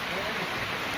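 Heavy rain pours down outdoors at Laitlum as a loud, steady, dense hiss that fills the whole moment without a break.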